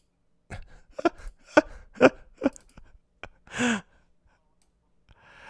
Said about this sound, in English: Breathing all heavy.